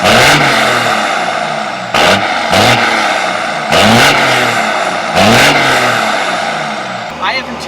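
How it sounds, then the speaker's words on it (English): Stick-shift coal-rolling truck with a custom exhaust revs repeatedly, loud and close, deep engine roars rising and falling in rhythmic bursts with brief gaps between pulls. "boy, does this thing sound good with that custom exhaust"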